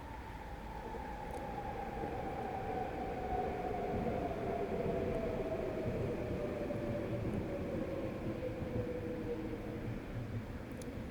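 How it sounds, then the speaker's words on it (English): A train passes outdoors as a steady distant rumble and rush with a faint falling whistle-like tone, continuous and moderately quiet throughout, no voices. "That train comes by."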